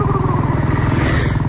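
A motorcycle engine chugs steadily at close range while carrying riders, its low, even pulsing unbroken for the whole stretch and no talking.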